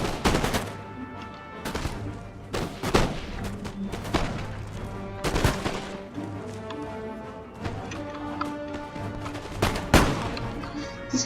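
Soldiers trading gunfire in a video game battle, sharp individual shots and cracks ringing out irregularly and fairly close, with a steady background of battle noise.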